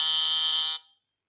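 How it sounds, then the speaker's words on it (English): A quiz buzzer pressed during a pub-style trivia round, one loud harsh electronic buzz held for under a second and then cut off into silence. "Okay, fingers on buzzers."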